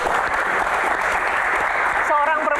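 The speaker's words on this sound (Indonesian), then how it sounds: "Tepuk tangan buat Bu Shirley ya." A crowd in a studio audience applauds for a woman guest on a Q&A talk show, with clapping steady throughout before a voice begins speaking near the end.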